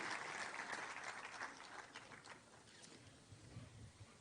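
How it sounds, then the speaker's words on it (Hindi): Loud crowd applause at a public event in Delhi as a guest arrives, dense clapping that gradually thins and fades over about four seconds. "एक बार जोरदार तालियों से अभिनंदन करें।"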